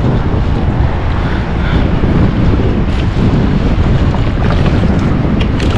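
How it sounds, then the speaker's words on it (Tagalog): Strong sea waves crash and churn continuously under heavy wind buffeting the microphone on a rough shoreline while fishing, a loud dense roar with no let-up and no voices. "Lakas ang alon dito."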